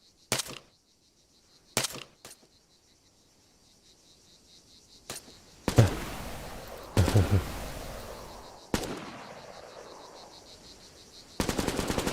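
Bursts of machine gun fire in the video game Arma 3, short rattling volleys separated by pauses, some near and loud, others trailing off with echo over a faint insect-like hum.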